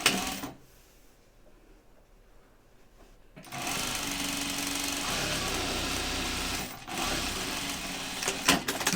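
Sewing machine stitching a tote bag, running in a fast, steady mechanical rattle that starts after a quiet pause and continues with one brief stop.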